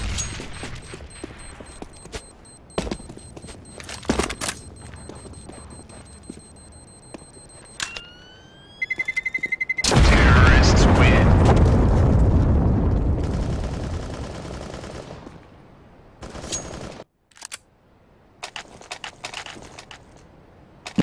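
A grenade blast and rattling gunfire in Counter-Strike: Global Offensive, a loud sustained explosion roar after scattered sharp shots, followed by more bursts of firing.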